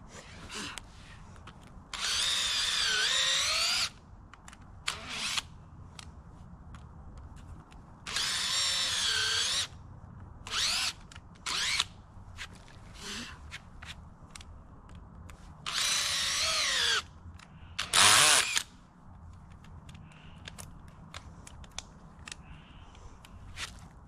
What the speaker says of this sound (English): Now I just gotta drill a whole bunch of holes in here as deep as I can.